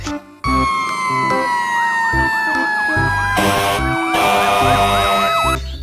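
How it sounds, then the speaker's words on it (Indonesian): A toy fire truck siren wails in rising and falling sweeps, loud and close, with a steady electronic tone and a low rumbling bed running throughout. "Ternyata ini mobil pemadam kebakaran."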